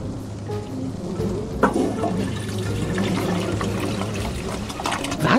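A continuous rush of running water, steady and fairly loud, from a toilet flushing in the video game Goodbye Deponia, with no voices.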